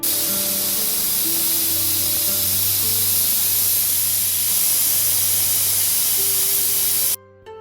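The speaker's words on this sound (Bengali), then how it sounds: "এদিকে মনে হয় প্রেসার কুকার ডেকে উঠলো" A pressure cooker in a home kitchen lets out a loud, steady hiss of escaping steam for about seven seconds, with a faint whistling tone running through it, then cuts off abruptly.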